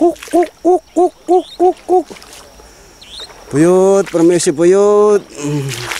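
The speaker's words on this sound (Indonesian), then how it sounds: "Ini suara burung banyak bosku" Six evenly spaced owl hoots sound near the water beside a fish trap, fairly close and clear, followed after a pause by someone speaking loudly.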